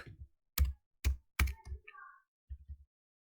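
Short bursts of keystrokes on a computer keyboard while typing Python code, a few separate clicks spaced apart and then a quick final flurry, close and fairly clear, with a faint murmur of voice in between.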